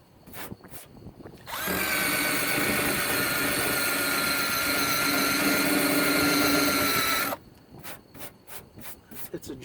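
A drill-driven rubber eraser wheel strips adhesive from Series IIA Land Rover paint, a loud continuous whirring rub lasting about six seconds, close up, with quieter tapping and handling sounds before and after.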